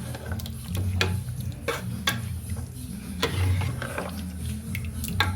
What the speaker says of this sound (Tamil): இப்போ வந்து நம்ம வந்து இந்த மட்டனை இந்த குழம்புல சேர்த்து நல்லா கலரிக்கலாம்